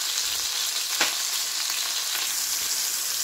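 Beef browning in a pan for a boeuf bourguignon, a steady close sizzle with a single sharp tap partway through.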